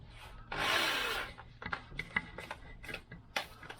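A drill bit is worked in and out of a hole on a Vespa scooter part, giving a close rasping scrape followed by a series of small scratchy ticks and rubs, fairly quiet and alone.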